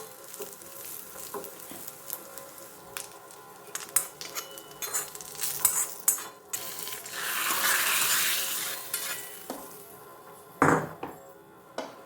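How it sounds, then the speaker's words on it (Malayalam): Green peas curry is stirred in a pot: a spoon scrapes and knocks against the metal in uneven strokes over a soft sizzle, which swells into a steady hiss midway, followed by a sharp clank near the end. "നന്നായി ഇളക്കി കൊടുക്കുക."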